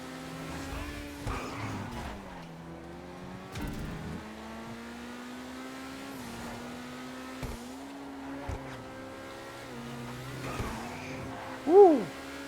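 A tuned Ferrari F40 in GTA Online drones at a steady engine pitch with occasional revs and pitch dips, short thumps, and a sharp tire squeal near the end, fairly faint overall.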